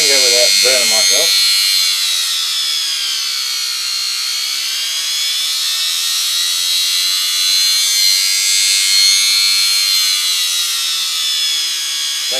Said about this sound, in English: And I'll load the motor with my finger without burning myself.